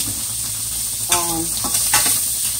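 Shrimp sizzle steadily in a hot pan with a constant frying hiss, broken by a few scraping stirs of a utensil near the middle and end.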